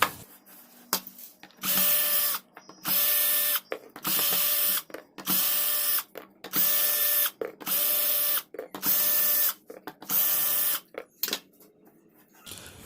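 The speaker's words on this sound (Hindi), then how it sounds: "अब बाकी बचे 2 स्पीकर, उनके भी सभी स्क्रू को ओपन कर लेते हैं।" A power screwdriver whirs in eight to nine even bursts of about a second each, removing the screws from home theatre speakers, with short quiet gaps between runs and no talking.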